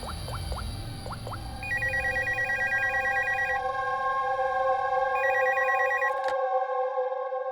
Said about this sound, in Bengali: স্টোর ম্যানেজারকে ফোন করছি।